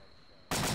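Sudden loud burst of gunfire in the Vietnam mod of ArmA II, cutting in abruptly after a quiet moment and staying dense and harsh to the end.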